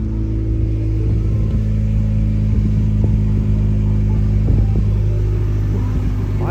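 A turbocharged Honda Civic running on its stock ECU idles close by just after starting. The engine gives a loud, steady hum with a constant drone and a few small fluctuations, and no talking.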